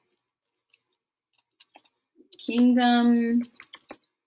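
Sparse, light taps on a computer keyboard come in short bursts, close by, with a brief spoken phrase in the middle.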